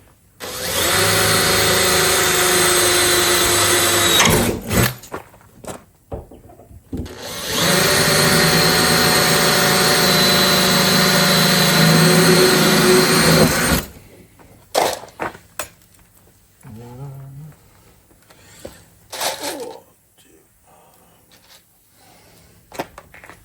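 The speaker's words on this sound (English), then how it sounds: "I can drill the rest of the holes." A power drill runs in two long, loud bursts close up, boring through the metal of a 2019 Mercedes Sprinter van, followed by quieter clicks, clunks and handling noises.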